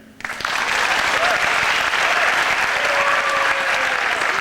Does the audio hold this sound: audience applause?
yes